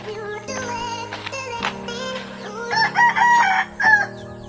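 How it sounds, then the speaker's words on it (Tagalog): Several chickens cluck and a rooster crows loudly and repeatedly near a rural hut in Anda, Bohol, with overlapping bird calls throughout. "Dahil manok yan guys."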